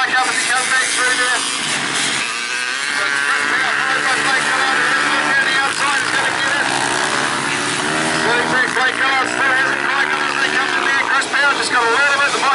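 Flat track motorcycles racing at Rosebank speedway, with loud, continuous engine roar and rising and falling revs as bikes pass, under a steady commentary voice.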